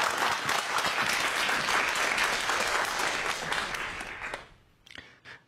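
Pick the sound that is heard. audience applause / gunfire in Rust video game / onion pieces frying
audience applause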